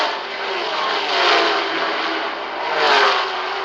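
A Matra race car, number 11, revs at a pit stop during the 1973 Le Mans 24 Hours, its engine note swelling twice in loud, close surges over a constant mechanical roar.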